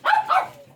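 A single dog in Minecraft gives a quick double bark, two short close yaps lasting under a second and then fading.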